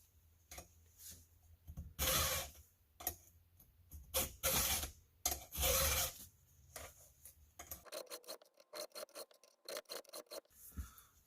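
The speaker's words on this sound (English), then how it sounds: "So flip obviously the file around so that I'm going to be filing out that way." Hand file rasping across the teeth of a Stihl MS461 chainsaw chain, a series of loud, close strokes in irregular bursts, then quicker, lighter strokes toward the end.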